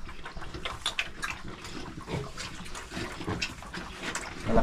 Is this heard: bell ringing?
no